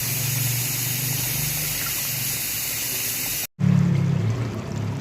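A glass of water is poured into a pot of cooking liver for a bhuna dish, a steady, close gushing pour that breaks off briefly and then resumes with a lower, fuller splash.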